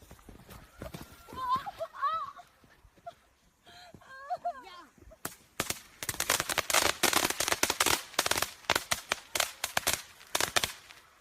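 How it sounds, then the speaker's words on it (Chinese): A long string of firecrackers goes off in rapid, loud, crackling bursts that continue to the end, after a few seconds of voices talking at the start. "我放炮。"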